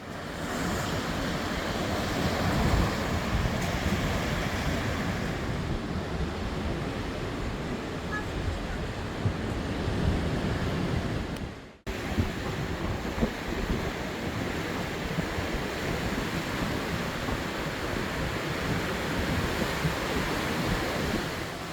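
Sea waves breaking along the rocky shore at Yeongeumjeong pavilion in Sokcho on a clear day with strong surf, a steady loud wash of surf with wind noise, continuous throughout with a brief dip near the middle.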